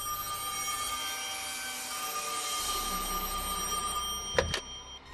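A cartoon's magic telephone rings late at night, a steady bright electronic trill running unbroken through the whole stretch, with a couple of sharp clicks near the end and no voices.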